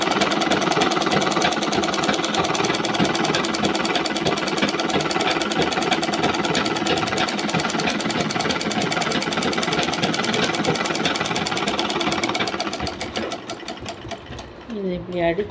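Sewing machine running a straight stitch, a fast continuous mechanical clatter held for many seconds close up, then slowing and stopping in stuttering bursts at the end.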